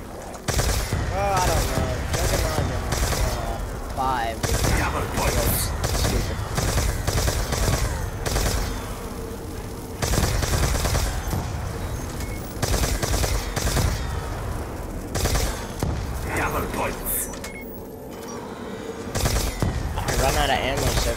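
Constant automatic gunfire in a zombie video game played by three friends in a zombie-filled town, with loud rapid bursts continuing through most of the stretch as players talk over it.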